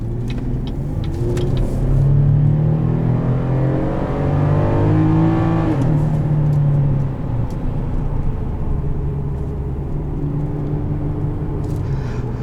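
A 2018 Chevrolet Colorado ZR2 V6 with variable valve timing accelerates, its engine note rising steadily in pitch through the revs, then easing and settling into a lower drone; loud and close from inside the cab, with no talking.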